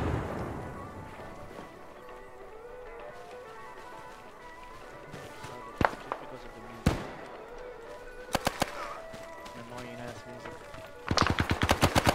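Machine gun fire in the video game Arma 3 during a Vietnam-era mission: scattered single loud shots, then rapid bursts of automatic fire building to a sustained rattling volley at the end, over a low battle ambience.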